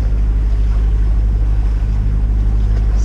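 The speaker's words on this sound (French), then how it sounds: "Donc moteur pendant quelques temps, là on va voir" A sailboat motoring under engine power off the Italian coast between Elba and Porto Santo Stefano gives a steady, loud, low diesel drone with wind and water rushing around it, with no voices.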